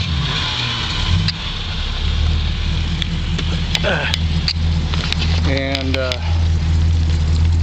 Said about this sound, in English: This is pretty much a cold start